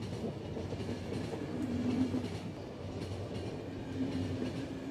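A scheduled train rolls past on the rails with a steady rumble and faint clickety-clack of wheels. The sound is continuous and moderately distant, swelling slightly midway, and no voices are heard.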